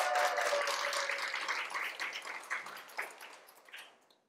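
A lecture-hall audience at a televised talk breaks into dense applause that is loud at first and then thins and fades out over a few seconds.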